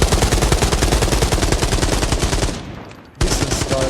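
Rapid automatic rifle fire from the shooter game Arena Breakout Infinite rattles in a loud, close continuous burst, then breaks off briefly before another burst starts.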